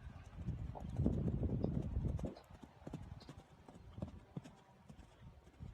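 Horse hooves clip-clop steadily on a dressage arena surface during a competition, loud and close for the first two seconds, then softer and more distant with scattered faint knocks.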